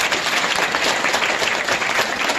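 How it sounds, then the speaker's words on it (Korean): A wedding audience claps together in a dense, steady burst of applause that fills the room for a couple of seconds, loud and close with no voices standing out. "먼저 박수 해주십시오."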